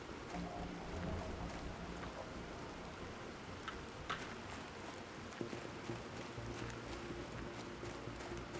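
Steady rain hisses faintly and evenly over a soft, tonal ambient backdrop in the video game The Planet Crafter, with a few light ticks and taps scattered through.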